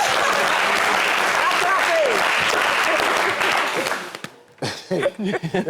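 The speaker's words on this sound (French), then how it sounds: "On applaudit pour Blanche, s'il vous plaît" A studio audience at a French television entertainment show breaks into loud, sustained applause that cuts off abruptly near the end, after which people begin talking.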